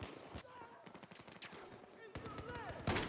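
Battlefield 4 gunfire crackles through an online match, rapid automatic bursts and repeated shots at mid distance, with a voice talking over the busy battle noise.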